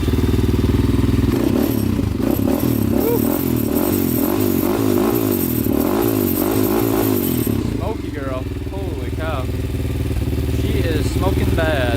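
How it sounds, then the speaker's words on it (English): A Honda 400ex quad fitted with stage 2 Hotcams runs close by, a steady thumping idle with a few revs, then drops lower as a person talks over it. "But the motor sounds really good."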